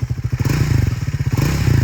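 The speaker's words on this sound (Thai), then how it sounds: "อันนี้จะเป็นเสียงเครื่องยนต์ในรอบเดินเบานะครับ" A Triumph Speed 400 single-cylinder motorcycle engine idles close by, a steady loud thumping pulse with deep, firm, chugging beats and no voices.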